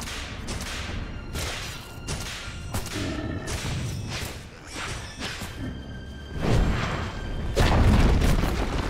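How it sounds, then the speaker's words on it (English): Heavy booms, thuds and whooshing strikes from a Dota 2 match as a Dire middle tower comes under attack and collapses, ending in a louder rumbling crash, with layered game effects throughout. "Dire's middle tower has fallen"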